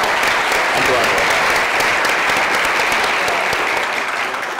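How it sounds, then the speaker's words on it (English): A conference audience at a civic technology forum gives loud, sustained applause, a dense and even wash of clapping lasting several seconds with faint voices mixed in. "So just a round of applause for Jen, please."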